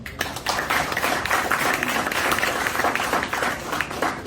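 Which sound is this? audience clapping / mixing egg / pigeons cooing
audience clapping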